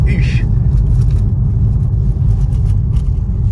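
A BMW flagship car's engine accelerates hard, a loud close rumbling drone that holds steady for a few seconds, heard from inside the car with a brief voice at the start.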